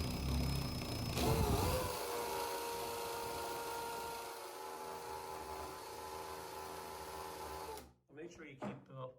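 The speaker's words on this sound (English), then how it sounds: "now I'm going to go ahead and just drill it" A power drill with a water-cooled bit whines steadily while boring a hole during a frameless shower door installation, the motor tone shifting slightly and then stopping before someone speaks.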